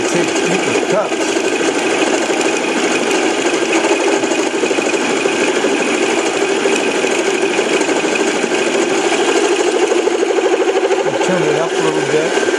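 Steady mechanical whirring and rapid chattering of a hand-cranked milling machine cutting metal, loud and continuous for the whole stretch, with a voice speaking over it.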